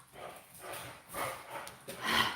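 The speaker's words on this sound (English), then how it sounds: "this is the rambunctious, loud little puppy in the back" Toby, a rambunctious, loud little puppy, barks in several short bursts spaced about half a second apart, with a louder flurry at the end. The sound is fairly close and has no talk over it.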